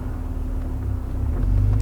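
Acura NSX with a manual transmission driving in first gear, a low, steady engine hum close by that swells slightly toward the end, with no talking.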